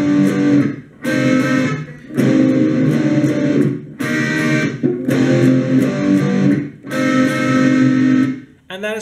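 A guitar plays a song's verse as a lesson demonstration, with loud, sustained chord phrases in about six bursts separated by short gaps, close and clear.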